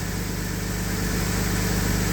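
An early Jaguar AJ30 V6 engine with variable valve timing idles steadily, a close, even, continuous hum with a regular low pulse and no voices.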